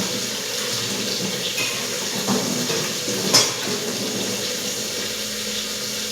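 A kitchen tap runs steadily into a sink during dishwashing, a close, continuous gush of water with a brief clink of a utensil partway through.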